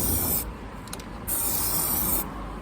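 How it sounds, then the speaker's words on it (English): Smooth Hammerite paint hisses from an aerosol can in short bursts inside the boot of a Mercedes SLK R170, close and steady, with brief pauses between passes. "I'm just going to spray it on lightly in here."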